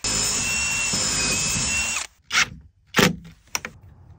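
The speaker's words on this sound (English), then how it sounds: "now we gotta drill a 3/8-inch hole right through the center of that square plastic bracket on the right side" Power drill boring a 3/8-inch hole through the center of a square plastic shed-lock bracket: a steady, close whine holding for about two seconds, then three short bursts as the bit finishes through.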